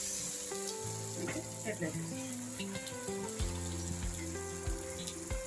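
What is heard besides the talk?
jowar millet paratha frying in oil on a pan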